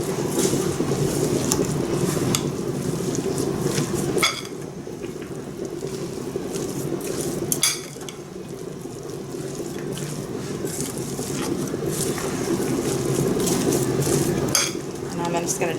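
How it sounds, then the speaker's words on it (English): Meatloaf mixture is stirred in a bowl with a fork, giving steady soft squelching and scraping with occasional sharp clinks of metal on the bowl. "I'm just gonna mix it up really good with my fork here."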